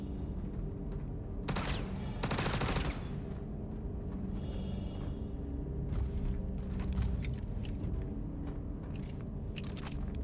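Enemy gunfire in Star Citizen during a firefight, heard as two short bursts of rapid shots, one at about two seconds and another near the end, over a steady background hum with no voices.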